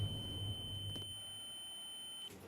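An elevator's door nudge buzzer gives a steady, thin electronic tone that holds for about two seconds and then cuts off, over a low mechanical hum.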